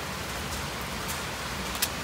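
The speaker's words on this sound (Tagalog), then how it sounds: "Lakas ng ulan talaga." Heavy rain falls steadily in Kobe, Japan, a continuous dense hiss of downpour with a few sharper drips or taps standing out near the end.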